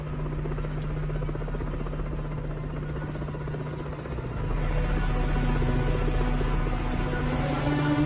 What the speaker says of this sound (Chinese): 飞机